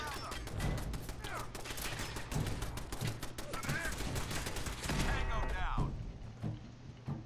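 Automated turret gunfire in Fallout 4, rapid dense bursts of shots running steadily for several seconds, loud and continuous under overlapping game noise and talk.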